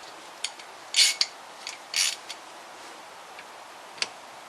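Ratchet working on a Classic Mini brake caliper bolt, a few quiet sharp mechanical clicks and short ratcheting bursts spaced irregularly against near silence, no talk.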